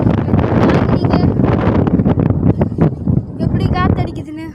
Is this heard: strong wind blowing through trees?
yes